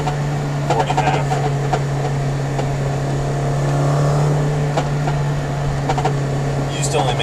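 A 1999 Honda CR-V with a failing axle seal holding steady at 5,000 RPM, giving a constant low droning whine under steady engine and road noise with faint clicks, continuous and close throughout.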